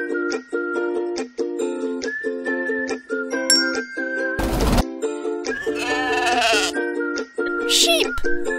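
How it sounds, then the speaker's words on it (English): A sheep bleats in a children's animal puzzle video game, a wavering bleat in the middle over bright, repeating game music, with short chime and swoosh effects around it. "Sheep."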